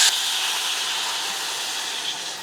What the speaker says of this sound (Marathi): फोडणीत कायम आहे ना गरम पाणी घालायचं